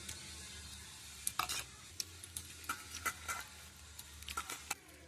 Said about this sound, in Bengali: আমি আলুর খোসাগুলো সব ছাড়িয়ে নিয়েছি, মাখা করে নেব।